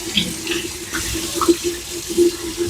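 Cold tap water runs from a faucet into a sink, rinsing brine off cured bacon, with a steady close splashing flow and a few light clinks throughout.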